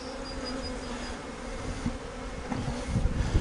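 Honeybees hum in a dense, steady drone at their hive as workers follow the queen's pheromone, with close soft bumps and rustles near the end.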